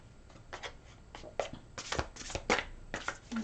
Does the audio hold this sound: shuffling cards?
yes